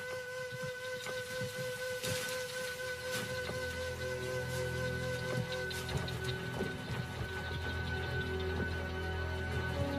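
Rain falling across the Kalahari, a steady, dense patter of drops on the ground, continuous and moderately loud throughout, with no voices.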